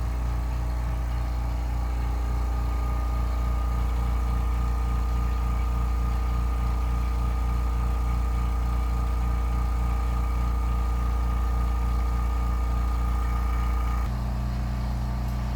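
A pump runs steadily while knife scales are stabilized for a bushcraft knife build, a loud, even mechanical drone with a fast pulsing throb that changes pitch and drops near the end, with no talk.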